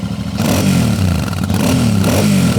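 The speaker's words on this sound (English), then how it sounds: "It gives it a lot more character and soul in terms of the sound and the feel of the engine." A Royal Enfield Super Meteor 650 with a 270-degree crank parallel-twin runs loud and close, its deep, throbbing exhaust note swelling in a couple of revs over a steady uneven beat, with no talk over it.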